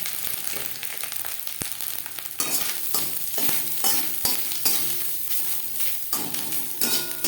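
Grated coconut frying with cumin and chilli in a pan over a low gas flame, sizzling steadily while a utensil scrapes and stirs in repeated strokes.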